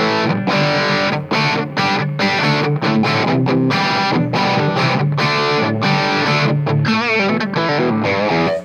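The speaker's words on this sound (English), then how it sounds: "Single with distortion." A loud, heavily distorted electric guitar with single-coil pickups plays chords and riffs continuously, with a thick, saturated, crunchy tone throughout.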